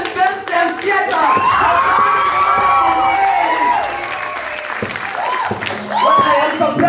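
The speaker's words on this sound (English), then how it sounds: "let us clap for the enlightened Western theater" A theater audience at a political satire stage play claps and cheers loudly, with whoops and shouts rising over sustained applause and a few voices calling out.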